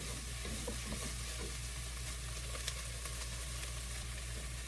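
Whole onion frying in a pan for chicken with coconut and veggies, a steady close sizzle running throughout with a constant low hum underneath.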